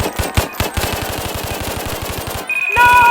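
Rapid bursts of machine gun fire in an emergency alert scenario, loud, close and rhythmic, breaking off near the end as a high electronic alert tone sounds.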